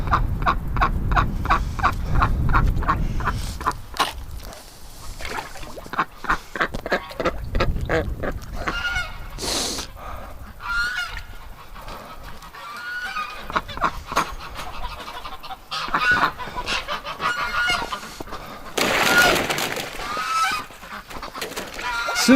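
A flock of ducks calls over and over in winter by a lake, with dense, overlapping quacks and honks close by and wind-blown rumble in the background throughout.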